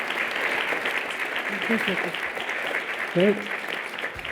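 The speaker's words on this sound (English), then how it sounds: "One final round of applause for our panelists." Audience applause for panelists at the close of a fishing and diving talk, a steady roomful of clapping throughout, with a short spoken word partway through.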